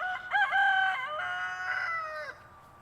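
Chickens exploring their snowy winter yard make a drawn-out, wavering call lasting a couple of seconds, clear and close with no other sound around it.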